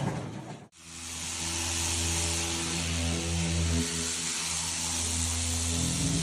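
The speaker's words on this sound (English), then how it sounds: "Sanding is quite boring" After a brief pause, a power sander starts up on a wooden board and runs steadily with a loud, even whirring drone.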